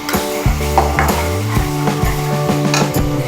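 Onion dropped into a hot pan of oil while cooking prawn tok jhal misti, a steady close sizzle and frying crackle with some stirring and utensil clatter throughout.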